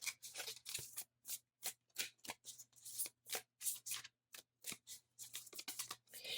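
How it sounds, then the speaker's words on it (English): Tarot cards being shuffled by hand in quick riffling bursts, a rapid crisp card-flutter repeating with short pauses between, close and clear with no talking. "I think I'll shuffle them again here"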